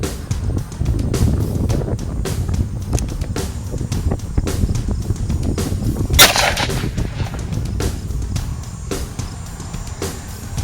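A 357 Magnum round fired from a 4-inch Smith & Wesson Model 65 revolver gives one sharp, loud concussive crack midway, set against steady outdoor wind and rumble.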